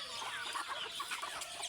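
Desi chickens on a low-cost backyard poultry farm cluck and chatter together continuously at a moderate distance, with no talk.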